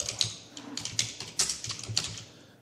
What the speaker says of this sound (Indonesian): misalnya kita ngetik